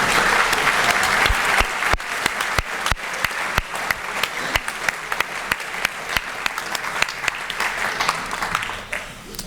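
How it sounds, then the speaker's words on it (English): A round of applause breaks out at a Battle of Midway commemorative dinner, with dense clapping at first that thins into sparser, distinct claps as it tapers off. "So please join me in a round of applause for that."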